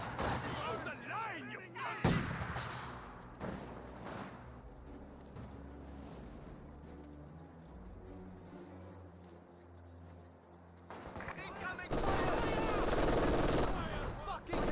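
MG42 machine guns fire in a Company of Heroes 2 match, loud rattling bursts up front that give way to a quieter stretch of distant battle noise, then another heavy burst near the end, with a commentator talking over it.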